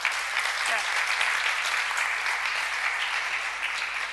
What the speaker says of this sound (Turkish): Alkış istiyorum Ebru için.